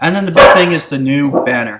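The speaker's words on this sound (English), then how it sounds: "if you hear my dogs in the background, sorry about that" A pet dog barks and yips somewhere in a home while someone talks over it in the foreground, the barking partly buried under his voice.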